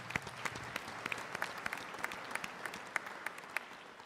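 A university graduation audience applauds a professor, the clapping sparse and fairly faint, with individual claps standing out in an irregular patter across the room.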